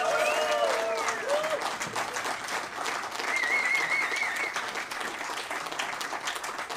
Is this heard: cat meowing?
no